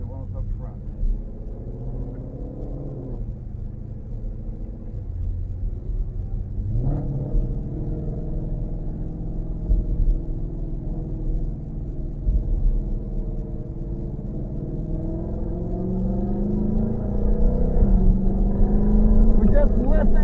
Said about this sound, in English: We just listen to the transmission how it shifts.